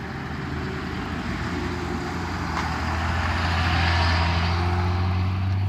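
Cars and traffic pass on a road near Grand Junction, Colorado, a continuous rumbling roar with low engine drone that grows gradually louder toward the end, with no voices present.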